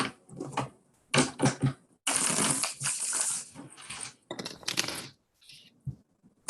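Tarot cards are shuffled in a series of papery riffles and bursts, close up, with short pauses between them and no talk.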